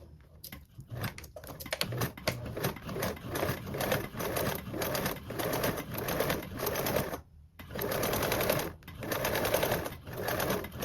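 A sewing machine stitches the long edges of a fabric toiletry bag, running in steady close bursts with a brief pause partway through.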